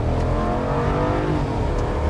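A deep, loud 6.4-liter V8 engine in a 2022 Jeep Grand Wagoneer roars steadily up close, its throaty rumble sustained across the short moment.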